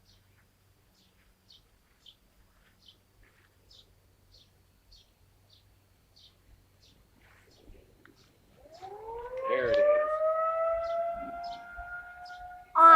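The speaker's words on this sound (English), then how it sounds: "Tornado siren test." A tornado warning siren under test wails up from near silence, rising in pitch and holding a loud steady tone with overtones, after faint bird chirps at a distance; someone speaks briefly beforehand.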